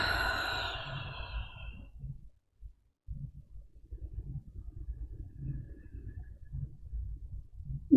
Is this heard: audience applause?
no